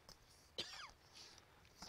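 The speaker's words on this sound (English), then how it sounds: "I've got to cough again." A single faint, short cough from a person playing the horror game Outlast, with quieter breathy sounds before and after.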